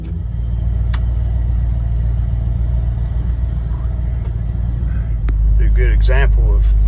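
A 1966 Ford Mustang rolls slowly, its engine giving a steady low rumble that is loud and close throughout, with a few clicks and someone talking near the end.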